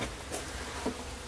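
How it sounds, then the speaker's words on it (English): A swarm of wild bees buzzes steadily around an open hive being moved, a dense, continuous drone close to the listener with no talking. "That is a lot of bees."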